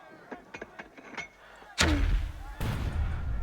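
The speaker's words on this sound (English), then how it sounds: "First we need to send a mortar on this machine gun again." Mortar fire in the World War strategy game Burden of Command: a few faint clicks give way to a heavy, booming impact, followed by a second loud blast with a rumbling tail.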